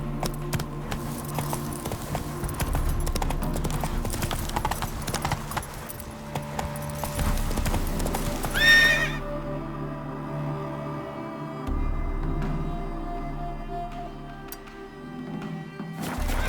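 Roach, the horse in The Witcher 3, gallops with a rapid, steady clip-clop of hooves alongside jingling tack. The hoofbeats ease off midway, then pick up again, with no talking.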